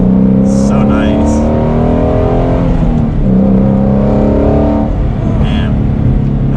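A Shelby GT350 Mustang with a naturally aspirated engine drives along, its loud steady drone and shifting engine tone filling the cabin while occupants talk over it.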